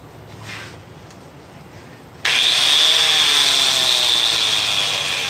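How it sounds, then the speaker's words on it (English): A power grinder in a forging workshop switches on abruptly after a quiet moment, then runs loud and steady with a high whine and a gritty grinding hiss. "just grab my grinder right here, right now"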